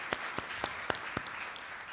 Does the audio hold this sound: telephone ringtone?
no